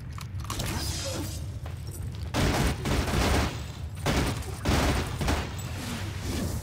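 A weapon in the game NecroVisioN fires in heavy bursts during a fight with a super-mech scorpion: dense, rapid blasts and mechanical rattling come in loud waves with brief gaps between volleys, close and alone.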